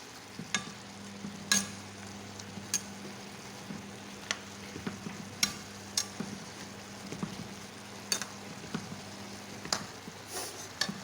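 Eggplant and minced pork stir-fried in a pan, giving a soft continuous sizzle broken by irregular sharp clicks and scrapes of the utensil against the pan, moderately quiet with no talk.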